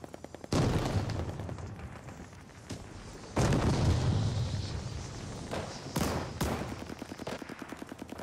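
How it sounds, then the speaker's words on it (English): Shotgun fire in a video game: five loud booming blasts with long decaying tails, two of them in quick succession near the end, over a steady faint ticking pulse. "I hear somebody with a shotgun."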